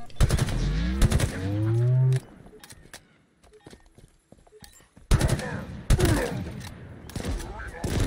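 Weapon fire rattles in a Halo Infinite firefight as the Hydra is used, with sharp bursts at the start and again later, separated by quieter clicks, and a voice speaks over part of it.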